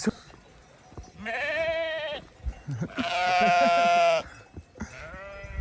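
Goats bleating loudly and close by, several long wavering calls one after another with short pauses between.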